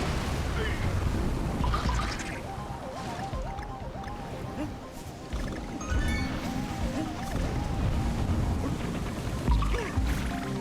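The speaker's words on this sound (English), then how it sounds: "Anything caught in that wave gets swept away, including us." Crashing waves surge in a Donkey Kong Country Returns stage, a continuous loud roaring wash layered with game music and effects throughout.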